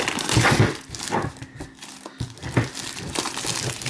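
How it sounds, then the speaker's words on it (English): Close-up crinkling and tearing as a TCL 10 Pro phone box is cut along the side and ripped open, a continuous rustling with a brief lull midway. "let's go ahead and cut open the box. We'll just go along the side"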